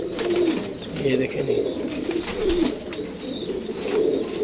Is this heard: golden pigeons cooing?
yes